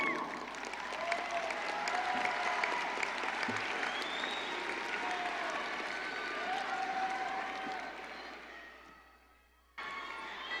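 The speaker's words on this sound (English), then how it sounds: "give them a warm round of applause for their support" Warm, sustained applause from a high school graduation audience fills the hall for about nine seconds, with scattered whoops and voices mixed in, then fades briefly before the clapping picks up again.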